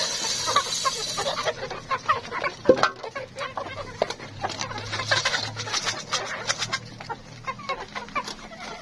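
Chickens cluck and murmur nearby at their feeder, joined by scattered bird calls and rustling, with a brief voice in the background.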